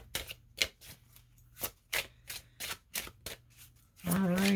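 Oracle cards are shuffled in a series of quick, crisp riffles and slaps at irregular intervals, close by, before a voice begins speaking.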